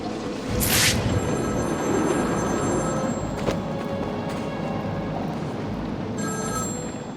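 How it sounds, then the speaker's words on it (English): Telephone ringing in the Batman: Arkham City video game, a repeated electronic bell tone that starts near the beginning and returns near the end over a steady low game ambience. "To start with, a ringing phone."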